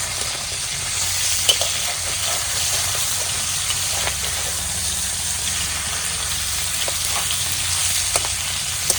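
Broken pieces of a large fish head fry in oil in a pan for a ghonto dish, producing a loud, continuous crackling sizzle with small pops and spatters throughout, close up and without talk.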